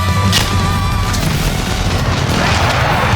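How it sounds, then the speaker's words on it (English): Enemy precision airstrike explosions in Call of Duty Modern Warfare, a sustained loud rumble of blasts and booming impacts with heavy low-end roar throughout, mixed with game music tones. "Enemy precision airstrike. Take cover."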